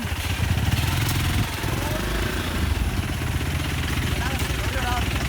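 An off-road motorcycle engine runs steadily and loudly throughout on a road trip to a Kerala waterfall, a continuous chugging drone with people talking over it.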